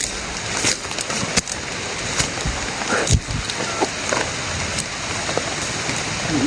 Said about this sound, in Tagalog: Grabe yung ano ng ulan mga tol.